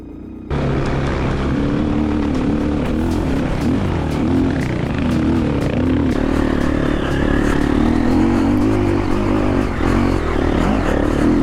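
A Triumph TF250E dirt bike being ridden through the Australian bush gives a loud, close, continuous engine drone that rises and falls with the throttle, over rattling and clatter from the rough track.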